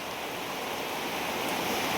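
Heavy monsoon rain pours onto a cattle shed where fodder lies covered, a loud, unbroken wash of hiss that swells slightly toward the end.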